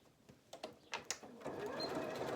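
A sewing machine stitches across fabric tabs on a zipped pouch. A few quiet clicks and thumps from positioning come first, then a steady, close motor whir takes over for the last second. Nobody speaks.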